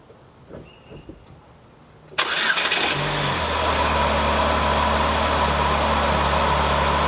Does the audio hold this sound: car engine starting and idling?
yes